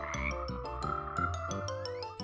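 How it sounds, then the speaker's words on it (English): A frog croaks in quick, evenly repeated bursts, loud and close, for about two seconds without any talk, as part of a children's reading lesson. "Frog."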